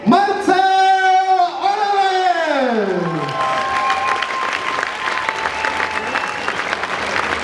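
Crowd applause and cheering for fighter Marcel Oravec at a Den rváčů RIVALS 2015 fight event, a sustained wash of clapping following a loud announcer's drawn-out voice, continuing evenly to the end.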